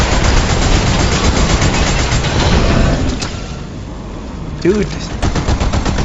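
Loud, rapid automatic gunfire in the Fortnite video game, a dense rattling stream of shots that eases off midway and picks up again, with a player briefly talking over it.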